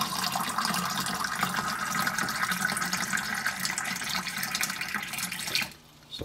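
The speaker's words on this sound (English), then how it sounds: "you get plenty, plenty of water coming out of this thing" Water gushes steadily from a faucet on a DIY whole-house filtering system fed by a quarter-inch line, a strong even splashing stream that runs for several seconds before abruptly cutting off.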